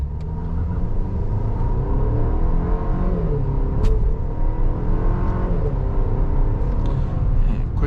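A 2025 Chevrolet Traverse High Country's 2.5-liter turbocharged inline-four accelerates hard in sport mode, a steady loud engine drone rising in pitch through the gears with no talk over it.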